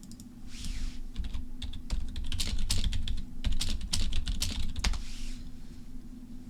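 Fast, uneven typing clatters on a computer keyboard close by. A dense stream of key clicks and spacebar thumps runs over a steady low hum.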